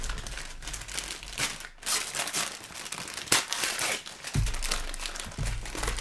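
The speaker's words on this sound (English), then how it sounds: "A nice crinkle." Wrapping paper with a fox print crinkling as a gift is unwrapped, continuous close rustling and crumpling with a few sharper crackles.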